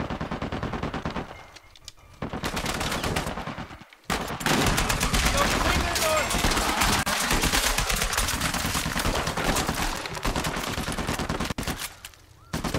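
Sustained bursts of rapid automatic gunfire from a firefight in the video game Uncharted 4, loud and nearly continuous, with a few brief gaps and a voice talking faintly underneath.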